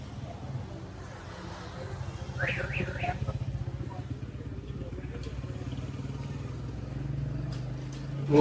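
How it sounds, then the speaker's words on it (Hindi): A motorbike rolls up along busy Mall Road, its mid-pitched engine putting steadily and drawing nearer amid street chatter and people talking. "वो स्नात आ रहा है बाइक लेके।"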